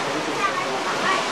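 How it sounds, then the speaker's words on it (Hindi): Heavy rain with rainwater flowing on a misty mountain morning at Thandiani gives a dense, steady broadband rush like a torrent, even and fairly loud throughout the short stretch. "पानी बह रहा है बारिश का"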